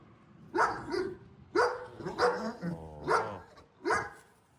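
Kangal dogs on a farm in Sivas bark in a series of about five close, loud barks at an uneven pace, with short gaps between them.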